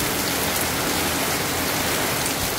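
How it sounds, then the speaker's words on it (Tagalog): Heavy rain pours steadily in the Philippines, a dense, constant roar of downpour drumming on surfaces, loud and close, with no voices. "Lakas ng ulan."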